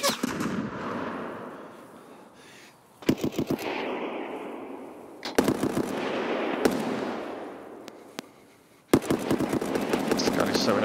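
Bursts of automatic gunfire from the shooter game Escape from Tarkov crackle in rapid strings, near and loud, separated by gaps with a voice talking underneath and between the shots.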